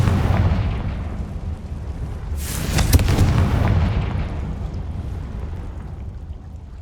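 Fire spell explosion cast in Hogwarts Legacy, a deep rumbling boom that swells to a sharp burst midway and then rolls off into a fading low roar.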